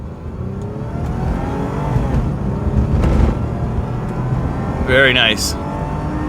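A Lexus car launches hard from a standstill, its engine note rising loud and steady as it accelerates, with a brief sharp whine near the end and someone speaking briefly over it.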